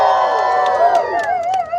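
A lively crowd at Disneyland cheers and whoops at an evening live event, loud and close, with bright shouting voices and rising calls.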